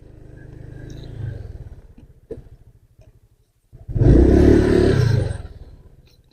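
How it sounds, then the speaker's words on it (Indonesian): Motorcycle arriving and parking: an engine putters nearby, slows to a few spaced thumps and cuts off, then after a brief pause a louder burst of rough mechanical noise. "Motor Mbak Eno parkir di sini dulu."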